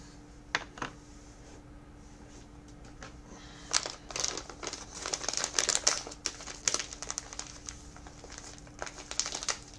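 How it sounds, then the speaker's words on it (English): Pipe tobacco is packed into a roller, soft crinkling and rustling from close by, sparse at first and then a denser stretch of scratchy, irregular crackles before it thins out again, with no talking. "pack some tobacco into my roller here"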